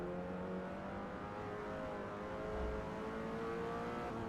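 A damaged car engine in a racing video game drones and revs unevenly at close range, a rough, strained whine that holds steady with slight surges, no voices.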